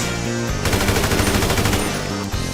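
Rapid automatic gunfire in a superhero-themed video game duel, loud and continuous with dense repeated shots over a steady game soundtrack.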